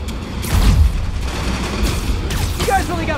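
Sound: enemies shooting guns in Marvel's Spider-Man Remastered video game

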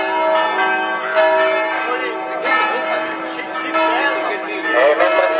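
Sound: church bells ringing from village bell tower

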